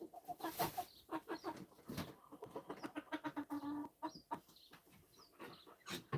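Chickens inside a house cluck in a busy, overlapping chorus, with rapid nervous bursts and drawn-out squawks close by, fairly loud and continuous throughout with no talking over them.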